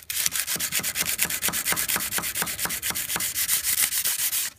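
Hand sanding a knife blade with sandpaper: steady rhythmic back-and-forth rasping strokes, about four or five per second, close and fairly loud, with no talking.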